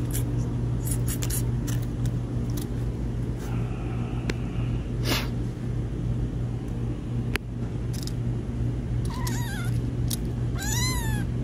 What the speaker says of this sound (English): oh, it's so cute, such a sweet little kitty.